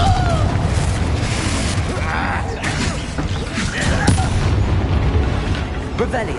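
Confringo blasting spells in the Hogwarts Legacy video game go off as loud booming explosions with crackling debris, set amid dense combat noise, creaks and rumbling, up close and layered.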